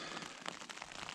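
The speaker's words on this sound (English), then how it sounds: "It's the rain on the tent." Rain pattering on a tent at a spring campsite in Algonquin Park, a close, dense crackling patter of drops hitting the fabric, steady throughout with no voices.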